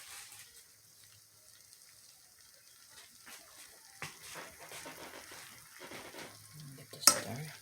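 Manwich ground meat is stirred in a frying pan, quiet sizzling with soft scraping strokes that grow busier toward the end, capped by a sharp clatter, close and low in level without talk.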